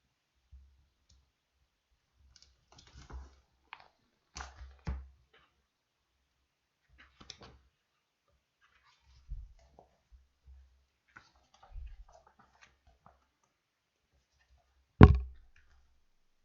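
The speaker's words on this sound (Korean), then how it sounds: "한번 카메라 버튼을 눌러 보겠습니다" A few sparse, light clicks of a finger tapping the camera button in the Anki flashcard app on a phone, spaced over a quiet stretch and ending in one sharper, louder tap near the end.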